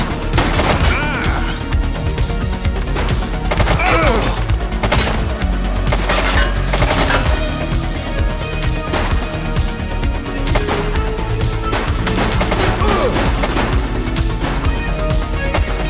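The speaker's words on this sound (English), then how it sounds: "He's shooting!" A suspect opens fire in The Precinct, loud rapid bursts of gunfire cracking one after another, dense and continuous, with a few heavier crashes mixed in.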